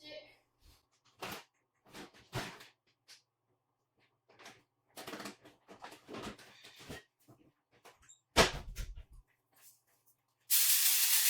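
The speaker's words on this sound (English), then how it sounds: "Using a good bit of avocado spray." Avocado oil cooking spray hisses steadily into a pan at the end, a loud sustained burst following scattered kitchen clatter and movement, with a person talking in between.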